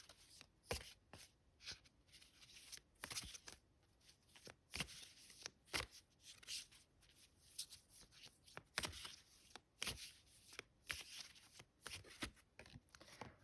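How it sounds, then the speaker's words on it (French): Tarot cards are drawn out and shuffled by hand, giving repeated crisp riffles and flicks with short pauses between bursts, close and fairly quiet, with no talking. "on va sortir toutes les cartes"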